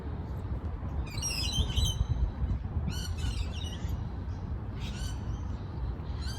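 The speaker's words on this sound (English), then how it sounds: "There's birds singing." Birds call in short bursts of bright chirps and squawks in the Royal Botanic Garden in Sydney, heard in three clusters over a steady outdoor background.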